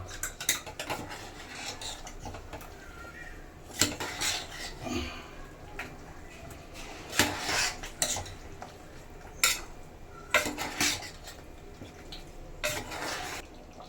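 Chicken chops marinade with pepper powder and rock salt being mixed in a bowl, a spoon clinking and scraping against the dish in irregular bursts, close and fairly quiet, no talking.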